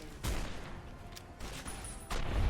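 Gunfire in Fallout: New Vegas: a few loud, sharp shots with echoing tails, spread a second or so apart over a steady game-ambience background, with no voices.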